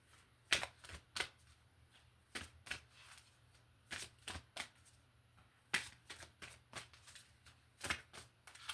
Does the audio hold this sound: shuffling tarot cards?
yes